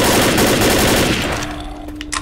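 Dense, rapid automatic gunfire in the Left 4 Dead video game's The Sacrifice campaign, loud and continuous before thinning out into a few scattered shots.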